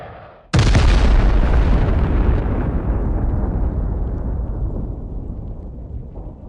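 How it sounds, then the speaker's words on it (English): A single massive blast as an air-dropped bomb strikes buildings: a sudden, very loud boom with a long, rolling rumble that slowly fades over several seconds. "Three precise bomb strikes, and the buildings are completely destroyed."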